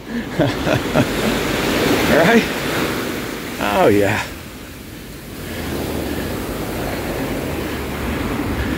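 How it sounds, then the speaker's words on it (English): Ocean waves wash onto the shore in a steady, broad rush that swells and eases. A person speaks briefly and softly over the surf near the start. "Hello, ocean. You seem so nice right now."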